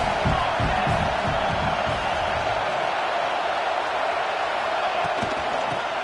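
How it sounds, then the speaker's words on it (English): A fired-up crowd at a football stadium roars as a dense, steady wall of noise that holds at the same level throughout, with some low thumps early on. "It's early, but this crowd is fired up. Listen to this noise here."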